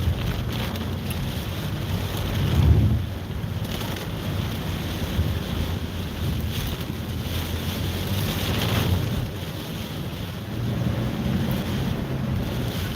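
A car drives through typhoon-flooded city streets, water swishing and surging under the tyres with steady wind noise buffeting the microphone throughout.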